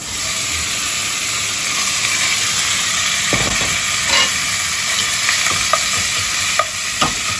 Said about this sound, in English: I'm going to put half the meat in. It's nice and hot.